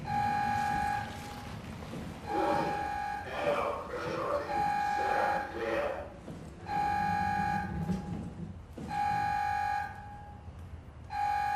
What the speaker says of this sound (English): I couldn't hear it over the beeping.